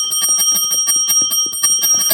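Clappers spun by a rotating bicycle wheel strike a bell in a fast continuous rattle of bright metallic dings, roughly a dozen hits ringing close and loud with a steady shimmering tone.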